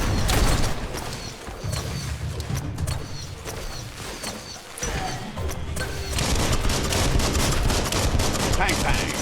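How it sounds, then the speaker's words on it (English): Dense gunfire in the video game Biomutant, rapid overlapping shots and impacts forming a loud continuous barrage from start to finish. "Bullets everywhere."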